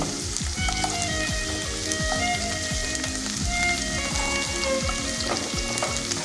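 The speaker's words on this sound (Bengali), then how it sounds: "এবার দিয়ে দেবো কুচোনো গাজরগুলো, এরপর কুচোনো সিম," Chopped carrots and beans frying in a pan for lentil soup give off a steady, close crackling sizzle that continues evenly throughout with no voices.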